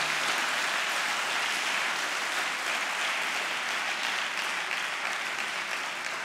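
A church congregation erupts in sustained applause and cheering for Jesus during a sermon on fighting the spirit of poverty, a dense, steady wash of clapping and voices filling the whole stretch at even loudness.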